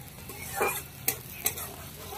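Masala being stirred and sautéed in a pan for a Bengali pomfret fish curry, with a soft sizzle under a scraping stir and two sharp spoon taps against the pan.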